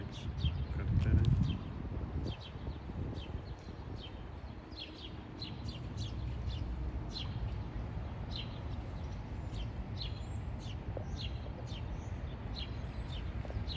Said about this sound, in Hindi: चिड़ियों की चहचहाहट कितनी खूबसूरत है।